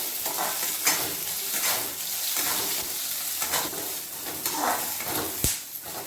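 Peanuts and green chillies fry in hot oil for a raw tomato chutney, a continuous crackling sizzle with occasional stirring scrapes and a sharp clink near the end, close and fairly loud, no speech.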